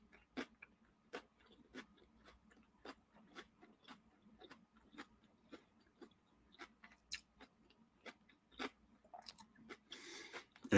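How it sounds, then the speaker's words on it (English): Crisp crunching bites of an onion burger, sharp chewing crunches repeating at a steady pace of roughly two per second, close and fairly quiet, with no talking. "And there is a lot of crunch to this."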